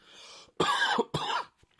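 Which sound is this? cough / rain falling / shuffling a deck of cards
cough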